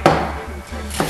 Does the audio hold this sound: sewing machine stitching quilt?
no